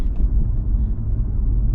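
A BMW car decelerates toward a traffic light, braking lightly after being warmed up: a close, steady low engine and road rumble with no voices.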